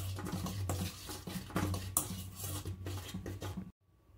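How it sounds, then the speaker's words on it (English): Dry ingredients for cinnamon mandazi dough, flour, salt and sugar, stirred together in a bowl, giving a steady scraping and tapping patter close by that stops abruptly near the end. "mix them very well."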